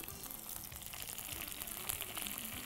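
Fennel seeds, mint and curry leaves frying in hot oil in a pan, giving a steady close sizzle and crackle throughout.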